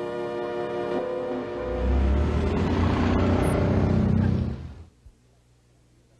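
A red Alpine car starts up and pulls away noisily, engine rumble swelling into a harmonic rev before fading quickly into near silence.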